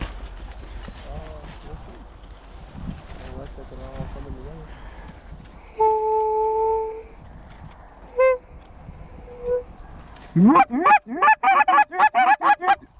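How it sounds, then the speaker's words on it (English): Geese honk overhead during a waterfowl hunt: a loud, rapid series of nasal honks bursts in near the end, after quieter earlier calls, with people talking in the blind beforehand. "Geese up behind us too."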